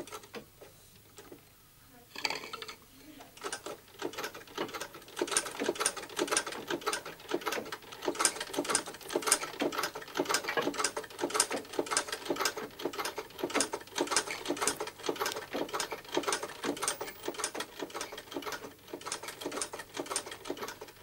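Old sewing machines run in a workshop, a fast, steady mechanical clatter that starts after a couple of seconds of quieter handling noise and then continues without pause.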